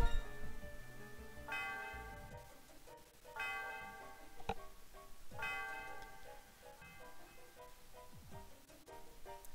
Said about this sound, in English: The sound of the bell reverberates through the area.